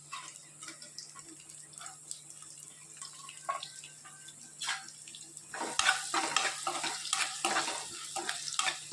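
Onions fry in oil with cinnamon, cloves and bay leaf, a soft sizzle under intermittent spoon scrapes against the pan, growing louder and busier toward the end.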